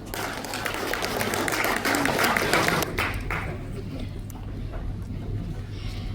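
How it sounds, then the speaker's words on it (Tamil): Crowd applause fills a Singapore meet-and-greet stage event with Harris Jayaraj in 2025: dense, steady clapping for about three seconds, then gradually thinning and fading to scattered claps and room noise. "ஒரு பெரிய கைத்தட்டி கொடுங்க"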